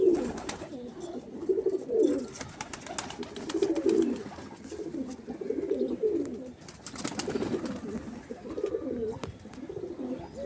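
Madrasi and Andhra breed pigeons coo softly in repeated low, throaty phrases, several calls overlapping at close range in a quiet space.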